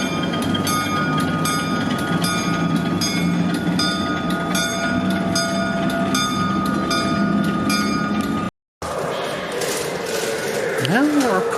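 Los Angeles Metro D line subway train at evening, a loud steady rumble with rhythmic wheel clatter and ringing tones, then after a brief cut a squealing pitch-bending whine as the train moves.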